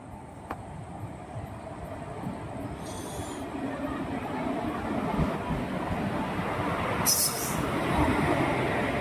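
A train pulls into a railway platform, its low rumbling roll building steadily over several seconds, with a couple of brief high squeals or hisses and a busy station ambience around it.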